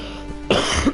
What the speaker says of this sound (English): I'm very sorry about the cough.